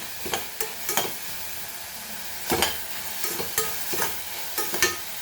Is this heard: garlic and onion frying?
yes